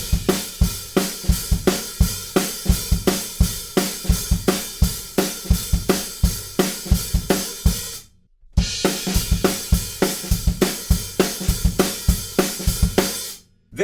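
Up-tempo rock drum beat with an added ghost note, from a song, played loud and steady with crisp hi-hats, kick and snare hits, briefly stopping near the end before resuming.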